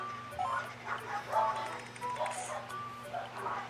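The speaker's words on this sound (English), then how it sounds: "Sorry about the loud bark." A dog barks loudly indoors over steady electronic music from the game Tomodachi Life, with a constant low hum.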